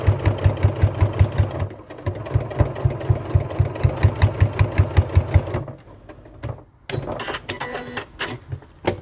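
A sewing machine sews piping binding in strong rhythmic bursts of fast thumping needle strokes, running, pausing briefly and then starting again, close and loud, with no speech.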